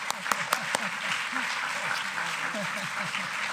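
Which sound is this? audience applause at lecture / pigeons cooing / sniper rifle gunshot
audience applause at lecture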